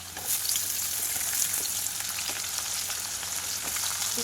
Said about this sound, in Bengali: তারপর কপি ভাজা